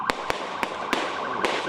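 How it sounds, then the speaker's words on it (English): Gunfire during a high-speed police chase through Washington, D.C. streets: five sharp cracks spaced irregularly over a steady wailing siren and traffic noise. "The unmistakable sound of gunfire"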